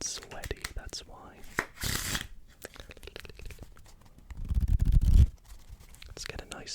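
Close, crisp shuffling of a deck of playing cards in an ASMR setting: bursts of riffling and flicking, a loud riffle-and-bridge run near the end, with soft whispered speech between.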